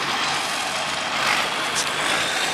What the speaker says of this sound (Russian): Трактор что-то грузит.